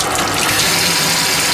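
Cold water running from a tap, a loud, close, steady splashing gush that fills the whole short moment with no talk.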